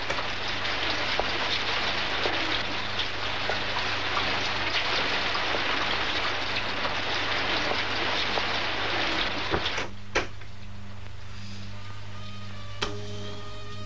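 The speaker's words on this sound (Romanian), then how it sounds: "Plouă." Steady rain falling and pattering on surfaces, a dense continuous hiss that thins out near the end with a few sharper drips and knocks.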